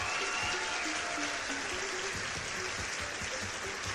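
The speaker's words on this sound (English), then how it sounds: "one more round of applause for Mr. West." An audience applauds a contest's first-place winner, a dense, steady wash of clapping that holds at even loudness throughout with no talk over it.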